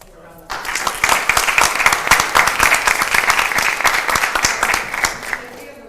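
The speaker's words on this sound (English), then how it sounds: "So let's give a round of applause." At a Board of Education special meeting, the room bursts into applause for Kamani after a quiet moment, with loud, close, rapid individual claps that keep going for several seconds and some voices mixed in.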